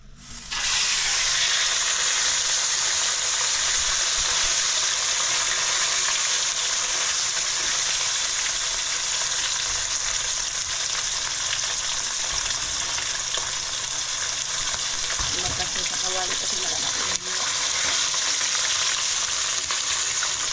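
Continuous loud sizzling of fish frying in hot oil, a dense crackling hiss that persists throughout, with a brief clatter partway through.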